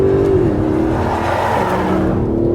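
A turbocharged Aston Martin engine revs in Sport Plus mode, its loud exhaust giving a steady, dense roar close by with a brief rise in pitch near the start.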